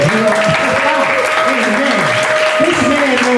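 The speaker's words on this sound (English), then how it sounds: "Let's clap it up for him." Steady applause from a church audience welcoming a guest speaker, dense and continuous throughout, with a sustained tonal hum and voices over the clapping.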